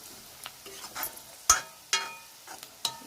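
Onion roasts in a pan until soft and browned, heard as a faint background sizzle broken by a few sharp, scattered clicks and scrapes of a spoon stirring against the pan.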